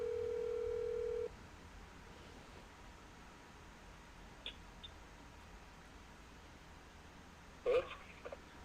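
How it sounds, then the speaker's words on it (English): Telephone dialing an outgoing call: a steady dial tone sounds for about a second, then stops, leaving a faint line hiss broken by a few tiny clicks and a short burst near the end. "Phone is dialing."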